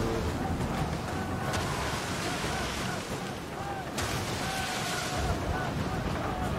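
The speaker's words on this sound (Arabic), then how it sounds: "الامواج عالية عالية عالية" High, rough ocean waves in the pirate game Skull and Bones, a continuous wash of surf and wind noise at moderate level with a couple of sharp splashes, with no speech over it.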